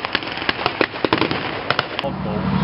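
Sherman tank gun firing during a battle reenactment at the War and Peace Show, a rapid run of sharp, loud bangs and cracks for about two seconds, then a duller rumbling stretch with no voices.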